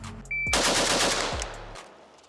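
A quick burst of several rapid shots from an AR-15 Dissipator rifle, loud and close, ringing out briefly after the last round.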